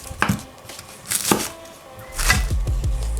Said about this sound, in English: we're going to slice up some onion